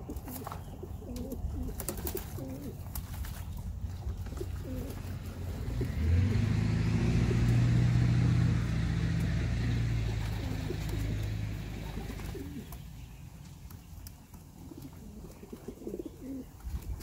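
Pigeons in a loft coo softly and repeatedly nearby while a car passes by, its engine swelling and fading in the background.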